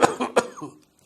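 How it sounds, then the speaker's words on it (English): Two or three strong, harsh cough bursts in quick succession, the kind arising from medium-sized airways as in asthma, close and loud before fading to quiet. "The patient takes a relatively deep breath and gives 2 or 3 bouts of strong cough"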